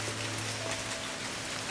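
Steady rain pours down on a remote island during a hurricane, a dense, continuous hiss of drops hitting the ground and foliage up close, with no pauses or voices.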